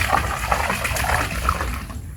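A backyard swimming pool being filled with water: a steady close trickle and splashing of running water, continuous with small bubbly fluctuations, heard alone without talk.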